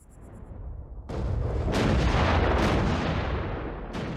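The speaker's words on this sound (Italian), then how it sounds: "Ogni assalto è preceduto da un bombardamento che può durare giorni interi." Heavy artillery bombardment in World War I trenches, a deep continuous rumble of booming blasts that swells from quiet into a loud, sustained roar.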